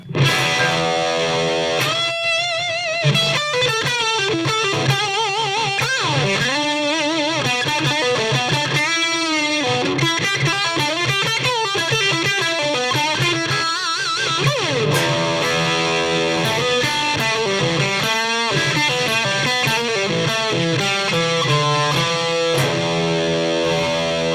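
Marshall Origin 20 electric guitar amp and cab with boosted, slightly distorted tone and reverb tail, chords and single-note lines played steadily for the whole stretch.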